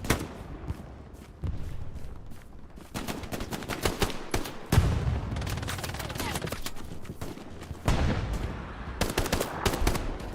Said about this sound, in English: Puts an extra few bullets in him.